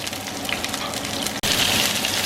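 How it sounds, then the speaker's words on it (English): Ahi tuna searing in an oiled pan, a loud, steady sizzle and crackle that fills the space, briefly dropping out for an instant before resuming just as strong. "now we're just going to let that sear"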